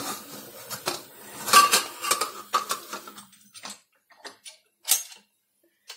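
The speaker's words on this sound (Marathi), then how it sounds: "आता आपण झाकण लावणार आहोत।" A lid is set on a metal cooking pot of boiling chickpeas, giving a cluster of clinks and clattering taps, close and fairly loud at first, then sparser small knocks fading to quiet.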